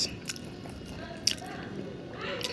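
Crunchy fried lentil fritters being bitten and chewed close up, soft crisp crunches with one sharper bite, quiet and intimate against faint room sound.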